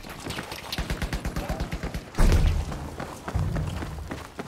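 A cannon booms in Battlefield V, one deep, loud blast followed by a second, softer report, preceded by a rapid run of rhythmic thumps amid battlefield noise.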